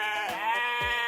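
A sheep on a ranch gives a single close, wavering bleat lasting about a second, clear and alone with only faint background noise.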